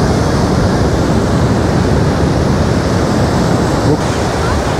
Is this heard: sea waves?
yes